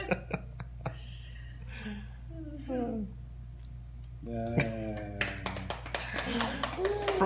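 A baby at a first-birthday smash cake claps frosting-covered hands, giving soft, wet, irregular claps scattered through the scene, with adults talking and laughing nearby.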